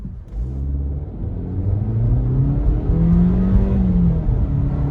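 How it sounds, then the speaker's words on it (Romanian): A 2022 Suzuki SX-4 S-Cross SUV accelerates hard from a standstill, its rumbling engine drone climbing steadily in pitch past 5000 rpm, loud and close from inside the cabin. "Un pic zgomotos motorul după 5000 de rotații pe minut"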